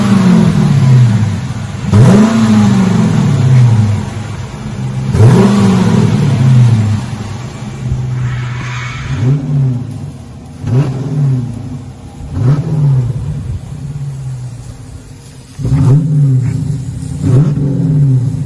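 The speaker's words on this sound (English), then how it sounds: "Magnaflow wide open straight through mufflers" A 2017 Chrysler 300 with Magnaflow straight-through mufflers and factory X-pipe revs hard several times in quick bursts, each throaty rise and fall loud and close, with idle rumble between pulls.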